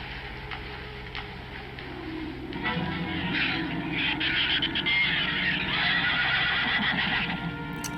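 A horse whinnies loudly in a film soundtrack amid busy background noise, its neigh rising and wavering over several seconds with faint clopping underneath.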